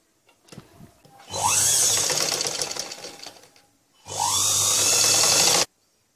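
Sewing machine stitching the neckline of a blouse, two close bursts of fast, steady whirring, the first longer and the second shorter, separated by a brief quiet gap.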